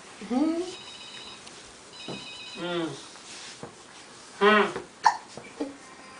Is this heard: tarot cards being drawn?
no